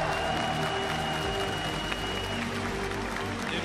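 Crowd applause at the League of Legends Worlds 2015 event, a dense continuous roar of clapping mixed with hall noise and a faint voice underneath.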